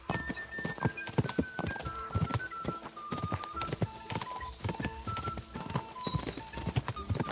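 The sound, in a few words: horse galloping in video game Kingdom Come Deliverance 2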